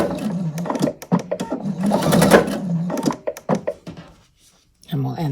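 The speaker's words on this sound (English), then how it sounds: "I'm going to start with a back stitch" A sewing machine back stitches around a denim placemat with a quarter-inch seam, its needle chattering in rapid stuttering bursts that stop and start, with a voice talking over it close by.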